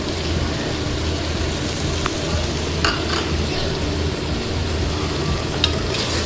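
Vegetable rice with masala, mint and coriander is stirred in a pan, a steady crackling sizzle with occasional scrapes and clinks of the spoon, close and continuous, with no voices.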